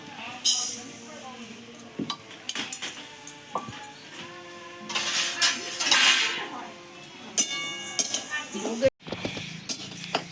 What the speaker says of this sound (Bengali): এবার আমি মুগের ডালটা ভেজে নেব